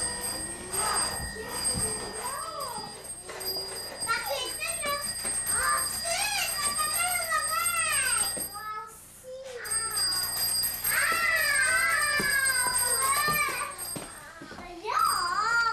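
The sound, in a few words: telephone ringing, played with by a child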